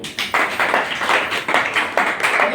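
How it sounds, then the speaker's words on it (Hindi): An audience applauds, a dense burst of clapping in rhythmic waves that stays loud and close for the whole moment. "एक दमदार ताली इनके लिए दे दीजिए।"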